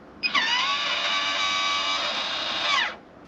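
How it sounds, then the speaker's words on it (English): A Maxxair RV roof vent fan, working properly, whirs up with a brief click, runs at a steady high-pitched hum for a few seconds, then winds down and stops. "that is the sound of a properly working Maxxair fan"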